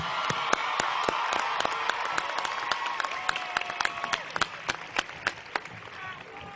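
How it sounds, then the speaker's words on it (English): Audience applause for graduates at a university commencement ceremony in a large hall, steady crowd clapping that thins into scattered, separate claps toward the end. "Please join me in applauding them."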